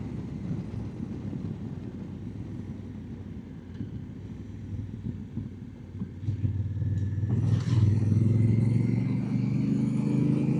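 A motorcycle rides into Pinnacles National Park, its engine a steady low drone under wind buffeting that grows louder and rises in pitch toward the end.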